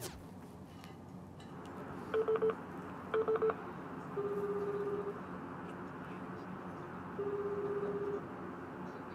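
Telephone keypad tones are dialed for a call on a Japanese radio-style broadcast: two quick bursts of several short beeps, then two longer sustained tones, clear and close over a quiet room hum.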